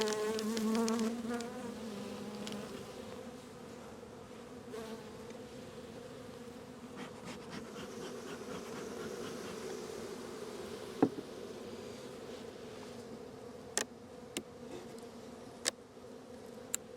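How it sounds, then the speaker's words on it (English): Honey bees buzz at an opened beehive during a hive check, a steady, close, low hum of many insects with a few faint clicks and knocks from handling. "So good population of bees."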